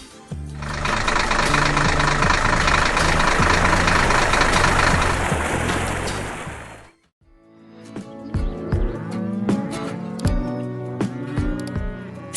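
Cows on a sunny farm give a loud, long drawn-out moo that lasts several seconds. After a brief silence, more lowing follows along with other noisy farm sounds.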